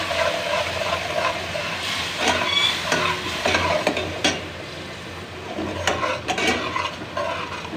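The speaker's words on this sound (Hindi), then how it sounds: "एक ज़बरदस्त सी आवाज़ के साथ ये हमारा मसाला भुन गया है" Spices sizzle and crackle in a hot pan while a spoon stirs and scrapes against the metal, close and continuous.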